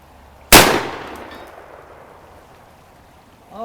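A single loud gunshot fired at targets rings out and decays over a few seconds outdoors, with the start of another sharp report at the very end.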